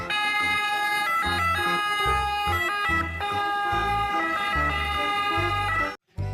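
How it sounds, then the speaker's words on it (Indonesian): Electronic toy ambulance siren wailing steadily and loudly in a repeating electronic pattern, close by, cutting off briefly near the end. "Wah, ada mobil ambulan."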